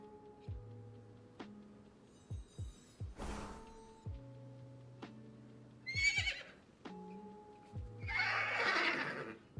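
A horse whinnies several times in a game, with hoof clops, clicks and short bursts of noise between the calls.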